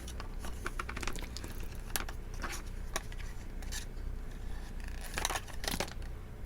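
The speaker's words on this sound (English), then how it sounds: "Use my Tim Holtz scissors there because they don't gunk up as quickly" Tim Holtz craft scissors snip through tape on a hexagonal paper box: a series of crisp, close cuts and short clips over a steady low background hiss, with no talking.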